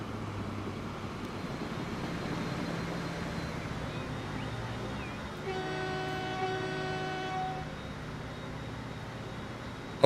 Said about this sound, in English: The other iron train's coming back over.